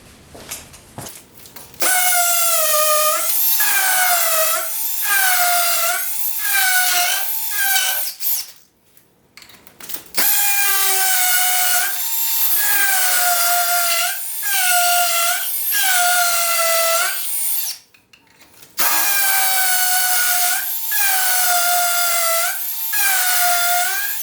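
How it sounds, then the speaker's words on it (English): Hammer drill boring into a concrete wall with concrete bits, loud close bursts of high whining, rattling drilling in repeated pulses, separated by two short pauses. "I need to drill into the concrete, that way I can secure it to the wall."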